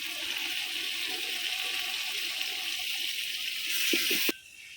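Water is poured into frying ginger, garlic and ground spices in a cooking pot on a wood-fired stove, a steady rushing splash that rises in the final seconds and then stops abruptly.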